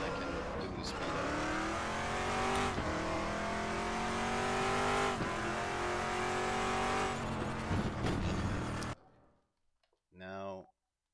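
A race car in the RaceRoom racing game powers through a corner with a loud sustained engine whine that shifts in pitch under braking and acceleration, then cuts to near silence and one short rev burst; a person talks over it.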